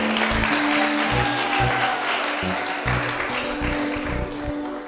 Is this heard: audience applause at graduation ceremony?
yes